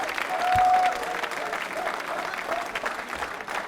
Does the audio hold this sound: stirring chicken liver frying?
no